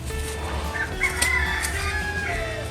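Roosters, fathers of a brood of chicks, crowing and clucking nearby in a farmyard, several overlapping calls against steady outdoor background noise.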